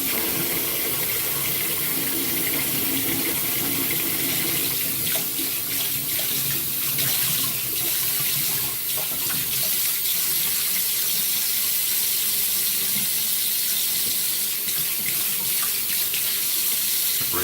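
Tap water runs steadily into a sink while a razor is rinsed, a continuous close splashing hiss with small clinks and surges over its full length, and nobody speaks.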